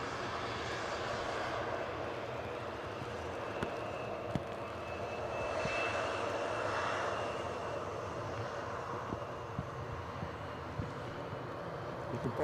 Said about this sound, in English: You can probably hear the ATR 72 as well.